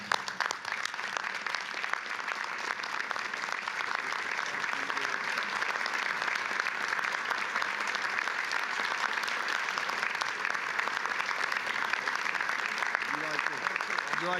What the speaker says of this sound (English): All in favor, stand up and applaud Dr.